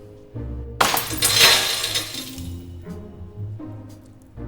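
A pane of window glass shatters loudly, with a sharp crash followed by a spray of tinkling shards that fade over a couple of seconds, set against a low background hum.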